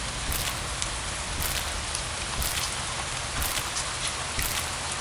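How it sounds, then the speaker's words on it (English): Heavy rain pours steadily at night near railroad tracks by a factory, a dense, loud, unbroken hiss that carries on with no voices. "That sound of heavy rain."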